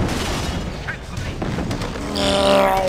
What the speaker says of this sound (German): Die sind kaputt gegangen, die Lasertürme.